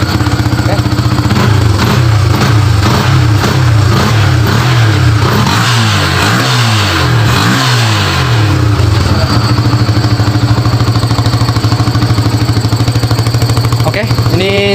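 A Yamaha Vixion motorcycle with an ignition fault starts and idles loudly up close, its engine rising and falling through several light revs before settling back to a steady idle, with a voice talking over it.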